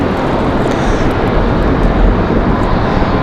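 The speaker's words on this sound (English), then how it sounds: "Hey, there's our A319" An Airbus A319 jet roars steadily at night over a Raleigh-Durham airport spotting location, a loud broadband rumble dominating throughout.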